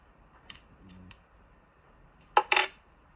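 Scissors snip through wet hair close by, a few faint light clicks early on followed by two sharp, crisp cuts in quick succession.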